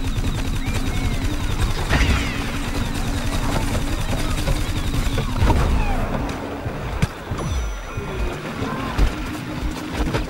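Gunfire crackles through a match of the shooter Plants vs. Zombies: Garden Warfare, dense overlapping shots and bursts packed into a busy, noisy mix of game effects, with someone talking over the action.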